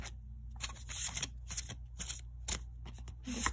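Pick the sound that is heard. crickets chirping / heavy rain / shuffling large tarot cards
shuffling large tarot cards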